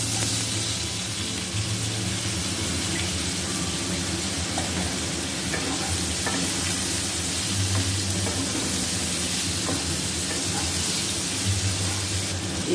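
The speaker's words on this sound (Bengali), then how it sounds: "এই তেলটার মধ্যে এই ঝোলটা দিয়ে দেব" Boiled jackfruit gravy hitting hot oil in a wok with turmeric and salt, a steady broadband sizzle and frying hiss that stays even throughout, close and continuous.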